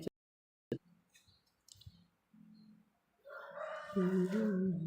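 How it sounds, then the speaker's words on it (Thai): A hen clucks in short, scattered bursts, then a louder crowing call rises at the end, fairly close and otherwise quiet. "แม่ไก่ แม่ไก่สวัสดี"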